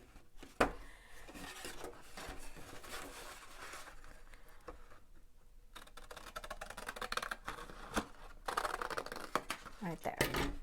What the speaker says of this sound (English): And then we're just going to take our scissors and cut that right there.